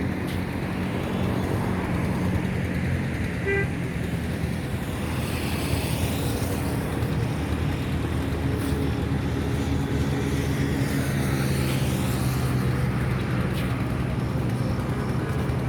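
Steady road traffic on the 300 Feet road in Purbachal, a continuous broadband roar of passing vehicles with wind buffeting the microphone, rising and falling as cars and buses sweep by at close range, no talking.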